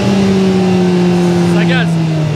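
A car engine, restored to running after two years of preparation, holds a loud, steady droning rev close by, its pitch sagging slightly while a person speaks over it.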